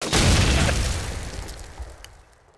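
Grenade explosion in Call of Duty 4 ProMod competitive match on the map District, one loud close boom that decays into a fading rumble over about two seconds.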